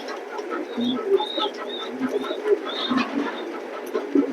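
Pigeons in a loft, some sold as light-coloured male and female pairs, cooing in soft repeated calls at close range amid a low background murmur of other birds.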